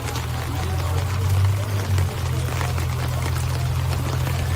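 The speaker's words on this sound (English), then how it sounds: "Folks, I cannot stress out enough that it is pouring." Heavy rain pouring steadily during a baseball game, a dense continuous hiss with a low rumbling hum beneath it, loud and unbroken throughout.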